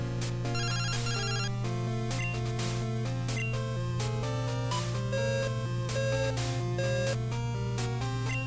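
A phone rings in the Pokémon Crystal video game: a bright, chiptune-style electronic jingle plays as a quick run of stepping, beeping notes over a steady low tone, loud and clear with no talking.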